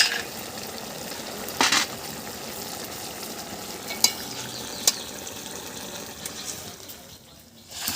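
Bori lentil dumplings go into hot oil in a fish curry pot, giving a steady crackling sizzle throughout with a few brief sharper pops and clinks, fading slightly near the end.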